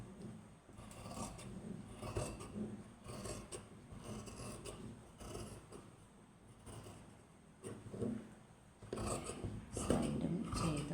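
Scissors cutting fabric along a marked shoulder armhole, quiet close snips and rasping drags of cloth in irregular bursts, with soft handling rustles between cuts.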